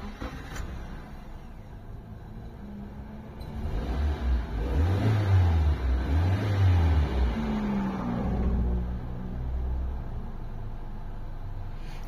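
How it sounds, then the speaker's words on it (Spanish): A Nissan Tsuru/Sentra 16-valve engine with a misfire starts and runs, a close mid-pitched engine note that rises after cranking into a couple of rev swells, then settles to a steady idle. "Ahora vamos a arrancar el motor a ver qué sucede."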